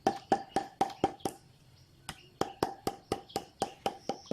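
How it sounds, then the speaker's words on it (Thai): Light hammer blows knock around the outside of an upturned cement flowerpot, a quick run of sharp, close taps, a brief pause, then another steady string of evenly spaced knocks, with no talking over them. "ค่อยๆเคาะนะครับ ถ้าเคาะแรงมันจะแตกเราก็ค่อยๆเคาะ เคาะกระถางข้างนอกนะครับเบาๆครับ"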